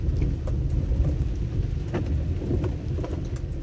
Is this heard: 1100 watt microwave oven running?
no